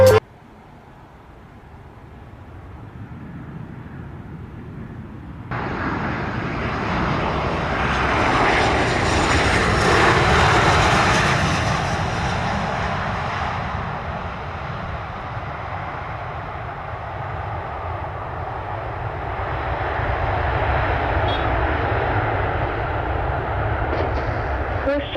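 Airliner engine noise at Sangster International Airport in Montego Bay, Jamaica, a loud broad jet roar that surges in from a quieter start, swells to a peak, then eases and builds again as the aircraft passes.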